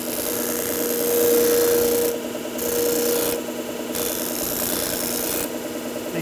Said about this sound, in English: with just a few seconds here at the disc sander